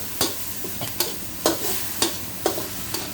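Minced pork stir-fried for Thai pad krapow, spatula strokes scraping the pan in a steady rhythm of sharp clacks roughly every half second over a continuous close sizzle.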